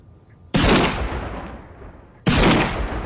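Gunfire in a GTA-style open-world video game, with bullets striking a wall. Two loud, sharp gunshot blasts land about two seconds apart, and each fades in a short rumbling tail.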